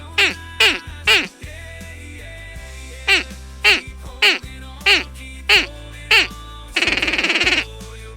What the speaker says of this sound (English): Those 2 over there are the ducks.